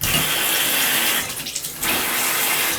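Water sprays hard out of a leaking tub and shower valve in a bathroom wall, a loud steady hiss that briefly dips and gurgles before surging back at full force.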